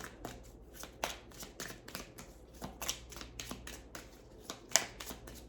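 Divine Timing oracle cards from the Maruk shop being shuffled by hand, a quick run of crisp riffling snaps and slaps, close and fairly quiet.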